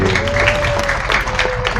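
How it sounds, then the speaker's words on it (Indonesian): A village gathering of local residents breaks into applause, a loud, fairly close clatter of many hands mixed with murmuring crowd voices and a steady tone running underneath. "dados tepuk tangan kangge panjenengan sedaya"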